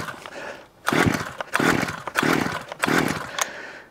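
A small petrol engine with choke and primer pulled over and trying to start, four rhythmic loud rasping bursts about half a second apart, each a short sputtering pull, close by with no talk.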